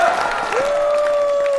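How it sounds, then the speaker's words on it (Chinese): Audience applause in a Chinese comedy variety show studio as a guest is welcomed: dense, steady clapping that fills the whole moment, with a sustained musical tone gliding in and holding over it. "掌声欢迎我们的伊丽静老师"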